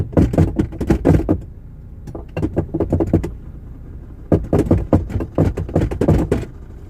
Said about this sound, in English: Knock on this heater.